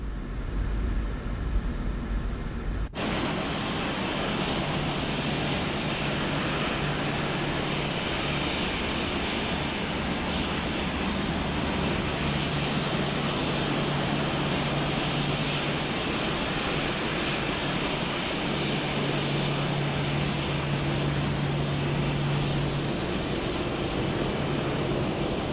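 Airliner taxiing in Microsoft Flight Simulator 2024, a steady loud jet engine whine and rumble that holds evenly after an abrupt start, with faint tonal hums drifting in and out.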